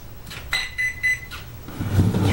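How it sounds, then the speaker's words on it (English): Three short, high electronic beeps sound in even succession as a VKAR Blue Bison is switched on, followed by a low rumbling noise. "3 beeps."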